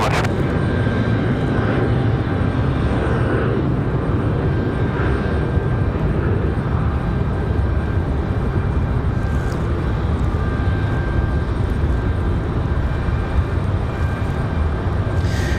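A freighter jet departs at night from Raleigh Durham International Airport, a loud steady engine roar with a sustained whine holding throughout, no voices heard.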